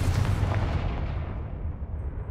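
A Confringo blasting curse from the Hogwarts Legacy video game, heard as a loud, dense fiery blast with a booming low rumble that slowly tails off over about two seconds, with no talking.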